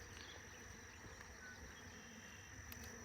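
Honey bees buzz around an opened hive during a beekeeping inspection of a surprise split. A low, continuous hum of many insects runs steadily for about three seconds, with no voices.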